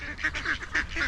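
Ducks in New Zealand call hungrily while being fed, a run of loud, nasal honking quacks from several birds close by, one overlapping another without a pause.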